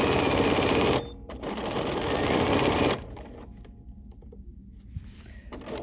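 A sewing machine runs close and loud stitching the sashing on an embroidery sampler, in two steady whirring bursts separated by a brief pause, then it stops and only faint handling noises remain.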